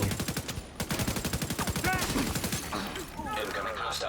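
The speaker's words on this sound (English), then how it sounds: "I was shooting." Rapid bursts of video game gunfire ripple through the first half, a fast machine-gun-like rhythm, then fade into a busier mix of game effects and chirpy tones toward the end.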